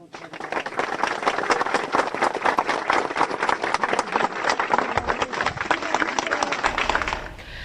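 Mourners give an emotional round of applause at a funeral, loud continuous clapping with a rapid, dense rhythm that holds steady before cutting off.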